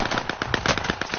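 Rapid automatic gunfire in Call of Duty: Warzone on PS4, a fast rattling string of loud, close shots that repeat steadily with no pauses and no talking.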